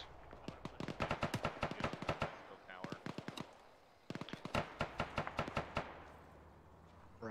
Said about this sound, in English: That's enemy fire up there.